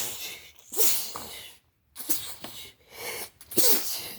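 Several sharp sneezes in quick succession, each a sudden loud burst followed by a short pause.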